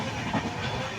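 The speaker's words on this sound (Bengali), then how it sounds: "তোমরা দেখো ট্রেন স্পিড চলছে" The Vivek Superfast Express, running from Dibrugarh to Kanyakumari at about 130 km/h, gives a steady rushing rumble and hiss heard from inside the coach, with a faint clatter under it and brief talk.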